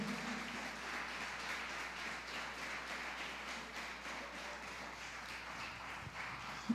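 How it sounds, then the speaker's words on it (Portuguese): Applause from a church congregation during a Portuguese-language sermon, a steady wash of clapping at moderate distance that holds throughout without talk. "Dê um forte aplauso para o Rei Jesus"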